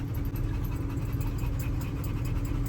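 American Bully dogs pant steadily and rapidly inside a packed van, close to the microphone. A low engine rumble runs continuously underneath, with no talk.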